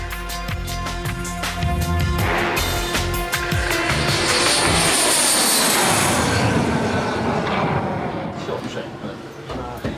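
A BAE Hawk jet roars loudly and steadily, its engine tone sweeping as the aircraft passes close by, then easing off toward the end.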